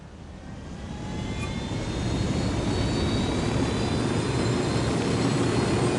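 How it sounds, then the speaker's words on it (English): A helicopter in the video game Ghost Recon Wildlands gives off a continuous, heavy broadband roar of engine and rotor noise that swells over the first couple of seconds and then holds steady and loud. "We got your chopper."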